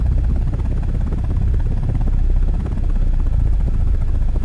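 A video-game attack helicopter flying, its rotor giving a constant low, throbbing drone with a buzzy hum, loud and close, steady for a few seconds with no speech over it.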